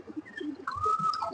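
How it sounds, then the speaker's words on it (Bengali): A male breeder pigeon cooing nearby, a short soft rolling coo rising into a sustained hum, with faint background rustle. "এটাও আমার বিডার কবুতর, এটাও মাশাআল্লাহ খুব ফাইন কবুতর"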